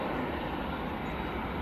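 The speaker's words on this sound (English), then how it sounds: "And there's the EasyJet." EasyJet airliner departing Manchester Airport, a broad continuous jet engine roar that stays steady and loud throughout, with no voices over it.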